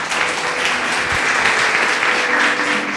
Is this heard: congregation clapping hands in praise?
yes